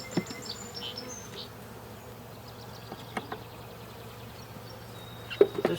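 Honey bees buzz around an open hive, a continuous low drone from many insects with individual bees whining past close by and a few faint clicks and knocks, no talk.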